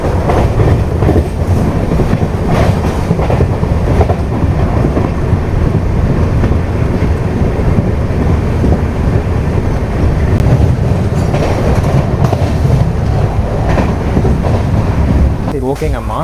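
Passenger train running from Kanniyakumari to Pondicherry, a loud continuous rumble with clickety-clack of wheels on rails throughout, steady and close.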